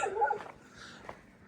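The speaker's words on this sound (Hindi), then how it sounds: "2 छोटे बच्चे हैं, उनकी तरफ देखकर ये भौंक रही है दोस्तों।" A dog barks at two small children at a farm house, giving a few short, thin yips and whimpering barks at moderate distance, spaced irregularly over faint outdoor background noise.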